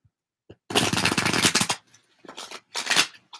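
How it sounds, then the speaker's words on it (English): Tarot cards being shuffled during a live reading: a long riffling burst of rapid card flutter followed by two shorter shuffles, close and fairly loud, with no talking. "One more shuffle."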